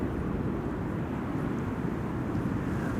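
An ex-KLM Cityhopper airliner flown by Eastern Airways lands on Runway 06 at Amsterdam Schiphol, a constant broad engine rumble and rush at moderate distance with no voices.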